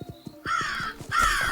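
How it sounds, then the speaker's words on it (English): Harsh crow caws from an indie dungeon video game, two loud, raspy bursts in quick succession over a steady, rhythmic low game soundtrack. "So they're going to be dangerous, those crows."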